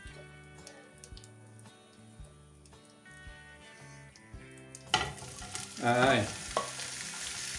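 Vegetables for chicken fajitas hit a hot pan and start to sizzle, a sudden burst of frying that stays crackling and close, with a brief spoken word just before and light clicks of utensils.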